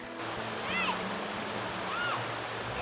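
River water rushes in a steady broadband wash where children rinse off mud after play, continuous and fairly close, with a few faint chirps on top.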